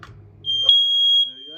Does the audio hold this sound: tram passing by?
no